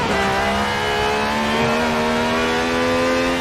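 Car engine in the racing game Forza Horizon 4 screaming at high, sustained revs near the limiter, a loud steady whine with a rising tone, heard alone.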